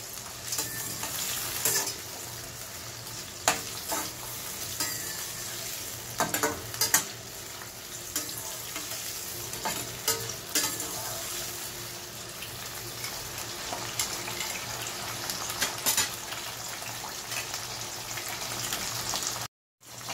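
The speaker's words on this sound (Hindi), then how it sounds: "या तो इस तरह से आप फ्राई भी कर सकते हैं।" Mixed vegetables for a navratan korma sizzle steadily as they fry in a pan, a continuous crackling hiss with occasional louder clinks and scrapes of stirring, close and alone without talk.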